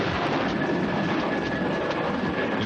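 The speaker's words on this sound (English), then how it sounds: "these catapults launch supersonic jets that require a mile on a normal runway" Steam catapult launch of a jet from the aircraft carrier John C. Stennis, with a loud, steady roar of engine and rushing air filling the whole stretch, no voices.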